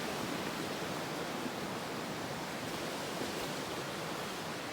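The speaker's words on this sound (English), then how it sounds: "Just a little creek." A small creek beside the Appalachian Trail rushes in a steady, broadband wash of flowing water, close and continuous with no other sounds.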